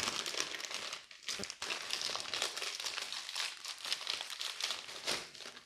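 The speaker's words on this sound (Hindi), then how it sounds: "फटाफट इसको पन्नी से बाहर निकाल लेते हैं" Plastic wrapper crinkling steadily as a Minda original lock kit for a Bajaj Platina is pulled out of its packaging, close and continuous with brief pauses.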